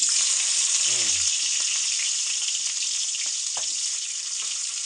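Chopped onions and green chillies fry in hot oil in a pan, giving a steady loud sizzle that runs the whole time, with a brief low voice near the start and a few faint clinks.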